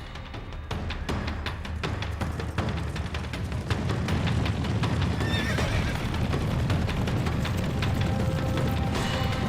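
Wild horses gallop and neigh in a loud, dense rush of pounding hooves, with repeated whinnies rising over the thundering herd throughout.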